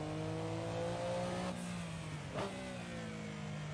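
A Group C sports car engine in a racing video game at Spa-Francorchamps holds a steady high drone as it accelerates, pitch climbing through gears with two sharp shifts midway, loud and alone.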